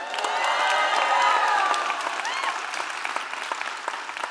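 A theater audience at a live TED talk event claps and cheers, dense steady applause from a large crowd with a few whoops rising early, then gradually thinning.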